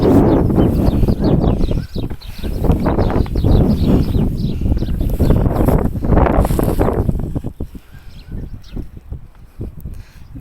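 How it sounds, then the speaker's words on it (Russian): Strong wind in a snowstorm roars and buffets the microphone with a loud, continuous low rumble that eases a little toward the end. "Ветер поднялся."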